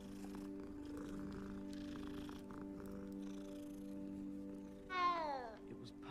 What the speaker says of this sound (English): there's a kitten out here.